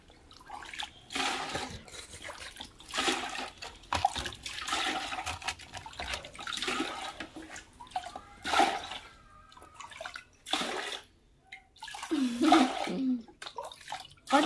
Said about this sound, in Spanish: Le vamos a agregar agüita.